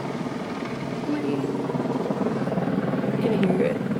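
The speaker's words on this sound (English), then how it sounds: "There's the helicopters." A police helicopter flies overhead at night in Southfield, Michigan, a steady low rotor drone holding throughout at moderate distance, with faint voices nearby.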